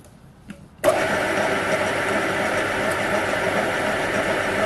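A lathe starts and runs a facing pass with a CCMT insert tool at 612 RPM, a sudden onset into a loud, steady, broadband machining drone that continues unchanged to the end.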